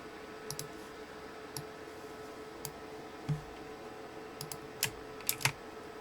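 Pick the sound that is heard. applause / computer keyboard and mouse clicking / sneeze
computer keyboard and mouse clicking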